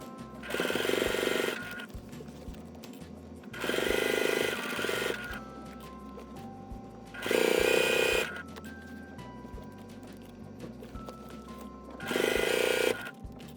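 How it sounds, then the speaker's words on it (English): A sewing machine stitching the lining of a boxy pouch bag runs in four distinct bursts of fast, buzzing whir, each a second or two long, separated by quieter gaps of low mechanical hum, close and clear. "Just sew one side, get that side done, and then sew the other side down."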